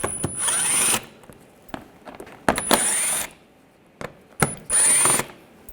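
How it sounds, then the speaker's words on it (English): Power driver with a T25 socket backing screws out under a 2011-2018 Volkswagen Jetta, three short whirring bursts close by, separated by clicks and handling clatter. "Now we'll take those screws out, use the same T25 socket"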